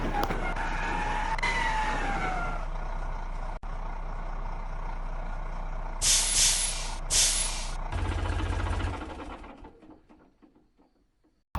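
A bus rolls to a stop, engine rumbling steadily before two sharp hissing bursts of air brakes, then a low idle that fades away.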